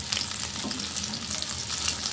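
Battered cauliflower florets deep-fry in hot oil in a pan, giving a steady, close, crackling sizzle that runs evenly throughout with no talking.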